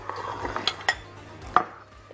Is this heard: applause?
no